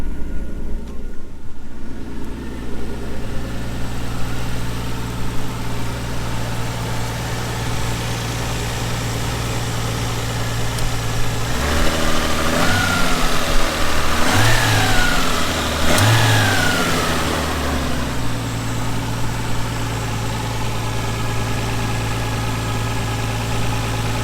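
A Nissan R34 Skyline fitted with a new dump pipe idles with a steady low rumble, then the engine is revved a few times in sharp bursts before it settles back to idle, heard close by.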